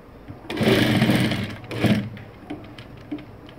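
A sewing machine stitches a neck design in two quick runs of rapid, close mechanical chatter, the first longer than the second, with quiet room tone between and after.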